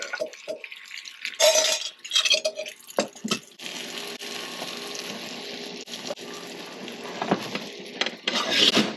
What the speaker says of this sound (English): I'm gonna put the cheese in, then the eggs right away.